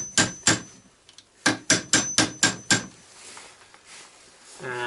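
Sharp metallic hammer blows strike a punch to drive roll pins out of a Mazda B2500 R15-MXD gearbox: two hits, a pause, then a quick run of six, close and loud in a quiet workshop.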